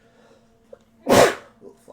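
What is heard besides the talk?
sneeze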